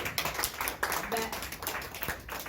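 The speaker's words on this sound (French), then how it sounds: "Merci beaucoup, nous pouvons applaudir." Audience applause at a women entrepreneurs conference in Montreal, a short patter of clapping hands with a voice speaking over it.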